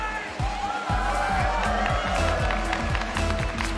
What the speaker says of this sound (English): This crowd already getting loud.